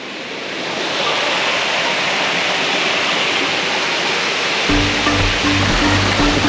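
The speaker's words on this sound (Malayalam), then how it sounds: "ഫസ്റ്റത്തെ വെള്ളച്ചാട്ടം എത്തിയിരിക്കുകയാണ്" A forest waterfall in Kerala roars continuously and loudly up close, a broad rushing wash of falling water, with a low rumble swelling toward the end.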